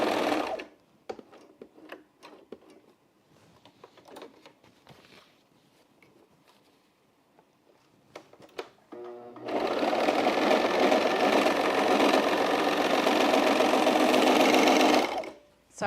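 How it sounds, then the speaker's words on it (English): A serger overlocking a side seam on men's jeans runs in a loud, steady, fast mechanical whir for several seconds, preceded by quieter handling clicks and rustles of fabric. "Let me just serge this really quick."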